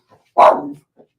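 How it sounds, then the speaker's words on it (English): A dog gives a single loud, close bark in an indoor room, late in the evening, followed by a faint short yip; no one talks over it. "Ray, what are you barking at?"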